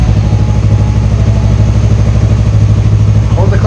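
A motorcycle engine idles in neutral before clutch practice, a steady loud rumbling chug throughout with a faint clatter near the end.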